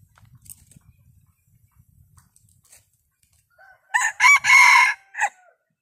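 A wild rooster crows loudly and close by, one long strained call broken into pulses near the end, after quiet faint scratching and rustling in the background.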